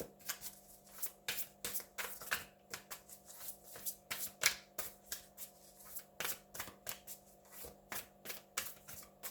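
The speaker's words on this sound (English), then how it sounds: "Get another card." Oracle cards being shuffled and drawn, giving a steady run of crisp riffling flicks and slaps, close and fairly quiet over a faint constant hum, with no talk.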